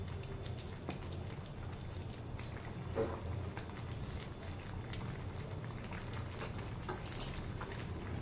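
Mustard paste is stirred into sukto simmering in a pan, a soft steady sizzle and bubbling with occasional scraping taps of the spoon, close and fairly quiet.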